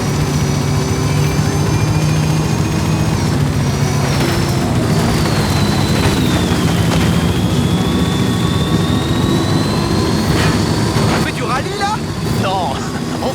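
Aircraft engine drone from a helicopter flying overhead in the racing game Forza Horizon 5, a steady loud whine and rumble lasting throughout, mixed with game sounds and voices talking over it.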